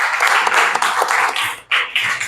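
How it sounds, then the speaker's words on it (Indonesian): Classmates clap loudly for a group that has just finished presenting, a steady patter of hands in a classroom that breaks off briefly and then resumes. "berikan aplaus untuk teman kita"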